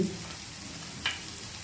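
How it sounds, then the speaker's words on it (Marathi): Onion sautéing in a pan until browned, a soft continuous frying sizzle with one brief scrape of a spatula partway through. "आपण परतून घेऊया कांदा आपला तांबूस कलर येईपर्यंत"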